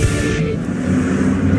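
SRX race cars circling Stafford Motor Speedway, a loud continuous engine roar that stays steady and close throughout, with no talk over it.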